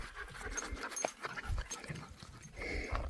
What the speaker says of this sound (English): Together they are half pit bull, half Malinois